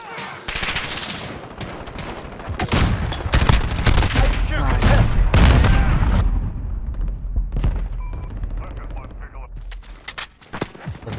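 Gunfire and grenade blasts in the first-person shooter Call of Duty: Modern Warfare. Loud rattling bursts and booms build to a dense middle stretch, then thin out into scattered shots, with a voice talking under the action.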